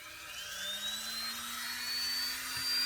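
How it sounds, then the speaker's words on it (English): A Dremel rotary tool grinds rubber track pads for a 1/35 scale T-42 tank model. A thin, high whine slowly rises in pitch, fairly quiet and continuous, with no speech. "I'm going to use my Dremel tool with some eye protection."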